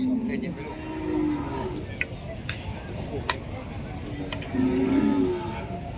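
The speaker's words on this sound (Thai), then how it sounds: "วัวมาจากพะเยา" Cattle brought from Phayao moo at a cattle and buffalo market in Roi Et, Thailand, with two drawn-out moos at the start and end, a few sharp clicks between, and a busy crowd murmur throughout.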